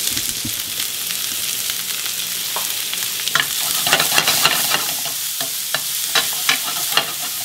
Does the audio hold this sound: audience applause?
no